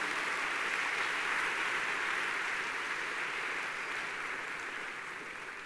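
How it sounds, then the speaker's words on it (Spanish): Loud, sustained applause from a church congregation, a dense wash of clapping that holds steady for several seconds and eases slightly toward the end. "bien fuerte ese aplauso"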